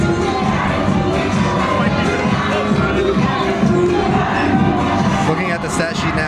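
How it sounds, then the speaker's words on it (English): A dense crowd cheers and shouts continuously at a college basketball game between the Broncs and the Marist Red Foxes, with a loud, sustained roar throughout. "the crowd is starting to get into it a little bit more,"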